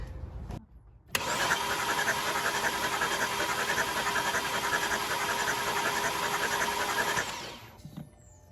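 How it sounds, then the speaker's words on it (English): A BMW N54 engine cranks briefly and catches, then runs at a steady, loud idle for several seconds before shutting off. "I'm going to go crank the engine"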